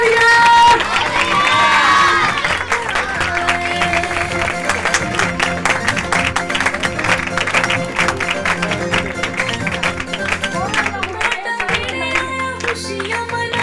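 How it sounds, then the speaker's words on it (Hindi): Crowd noise at a Christmas night meeting in a church, with loud continuous clapping and cheering that fills the room and runs throughout, voices mixed in. "जोरदार ताली दें।"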